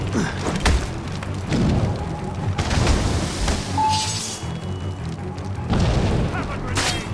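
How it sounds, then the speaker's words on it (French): Mortar explosions in the naval action video game Assassin's Creed Rogue: several deep, rumbling booms rise and fade, mixed with game noise while someone talks throughout. "Chevalier is using mortars to stop Shay."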